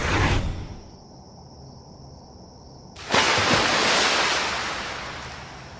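Water splashes onto someone at a car wash: a sudden loud burst of water hits partway through, then a rushing spray slowly fades. Before it, a quieter stretch holds a high steady whine.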